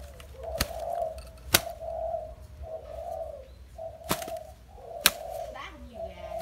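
Decoy bird calling, repeated low cooing phrases in a steady rhythm broken by a few sharp clicks, close and clear, with faint talk in the background.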